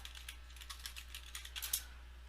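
Someone types on a computer keyboard while entering a field name into a Microsoft Access update query, producing a brisk run of light, close key clicks over a low steady hum.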